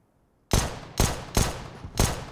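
Four loud, evenly spaced rifle shots from Counter-Strike: Global Offensive on the Dust2 map during a DreamHack Open match, each a sharp crack with a short decaying tail, alone without talk.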